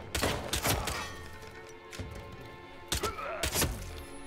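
Gunfire in the VR game Hitman 3, several sharp bursts of shots in quick clusters at the start and again near the end, with quieter thuds and mechanical clunks in between and no talk.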